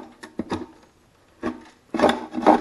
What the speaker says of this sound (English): the roof scraper seems to be working